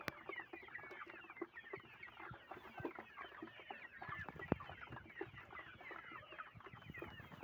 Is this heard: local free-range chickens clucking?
yes